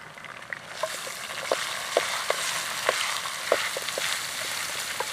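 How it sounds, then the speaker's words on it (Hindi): A kilo of hand-minced beef fries with browned onions in ghee, a continuous close sizzle punctuated by regular scraping stirs about every half second. "अब इसमें 1 किलो हाथ से बना हुआ बड़े गोश्त का कीमा डालेंगे।"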